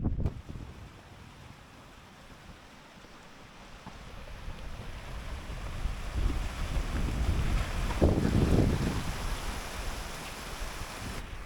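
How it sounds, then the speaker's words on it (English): Steady wind buffets the microphone in low rumbling gusts at Angle Tarn in the Lake District, building louder toward the end, with a strong blast around the middle. "It's been a little bit windy."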